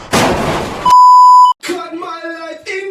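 A smoke detector sounds a single loud, sustained electronic beep lasting over half a second. It follows a burst of noise and is followed by people talking.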